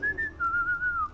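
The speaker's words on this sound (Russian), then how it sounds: "Кто-то свистит тут." A character in The Witcher 3: Wild Hunt gives a short, clear whistle with a bright tone that dips and wavers slightly, heard alone and close.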